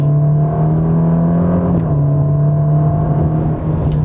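A Ferrari Roma's engine drones steadily while driving in race mode, a loud, close, continuous hum with a slight pitch shift partway through and no voices.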